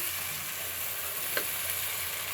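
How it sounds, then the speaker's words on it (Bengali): Spice paste for a country chicken curry with dried bean seeds sizzles and fries in a pan, a steady soft hiss with a faint scrape of stirring, quiet and continuous. "আমি এখন মশলাটা কষিয়ে নিচ্ছি।"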